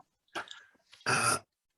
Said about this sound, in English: Gotta clear my throat again.